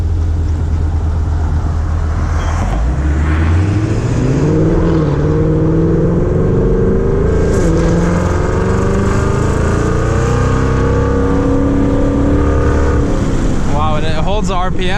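A supercharged Ford Mustang GT in sport mode revs hard and drops through downshifts, its engine note climbing and falling steadily while the car keeps driving, loud and close from inside the cabin.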